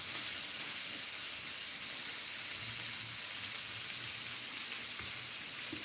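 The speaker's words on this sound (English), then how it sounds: "Just toasting the bun for Aussie." A burger bun toasts on a grill for a Whopper-style burger, giving off a steady, even sizzling hiss that runs the whole time at moderate loudness, with no talk.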